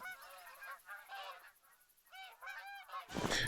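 Several geese honk in loud, repeated bursts within a hunting video game, the calls clustering in two groups before a sharp burst of noise at the end; no talking.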